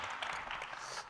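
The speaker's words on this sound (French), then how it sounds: "On peut vous applaudir." Audience applause closing a round-table discussion at a forum conference on future training and jobs: dense, steady clapping from a crowd, fairly loud and continuous throughout, with no voices.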